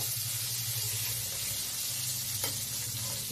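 Ridge gourd frying in hot oil, a steady, loud sizzle and hiss that holds throughout, with a faint scrape of stirring partway through.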